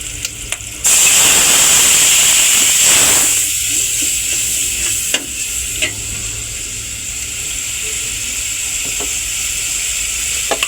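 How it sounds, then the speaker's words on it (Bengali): Water splashes into masoor dal bhuna frying in a pan with salt and chili powder, setting off a loud burst of sizzling that settles into a steady hiss with light stirring, no voices. "এখন আমি একটু পানি দিয়ে দিব।"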